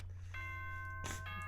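A doorbell-style school announcement chime from the Danganronpa Trigger Happy Havoc video game rings out with sustained bright tones that step into a second struck note over a low background hum.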